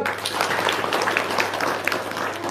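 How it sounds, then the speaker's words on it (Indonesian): A gathered audience at an Indonesian talk applauds in a continuous, dense patter of clapping, moderately loud and steady throughout. "Sip, tepuk tangan dong."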